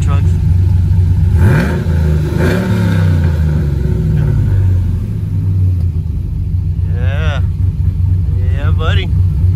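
A truck with a cammed 5.3 V8 and a new exhaust rumbles loudly nearby, throwing a couple of quick revs early on before settling into a deep idle, while voices talk over the engine near the end.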